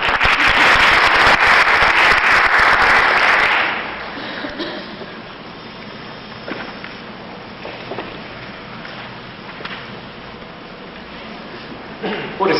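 Audience applause is dense and loud for the first few seconds, then it stops and leaves a quiet, muffled room with faint shuffling.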